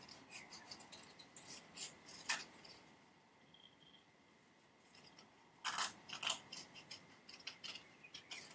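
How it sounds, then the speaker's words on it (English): Scissors snip through paper in quiet, crisp bursts, cutting out paper doll wings, with a pause in the middle, close and fairly soft. "The wings are again pretty good to use scissors with. I think we can cut these out pretty quickly."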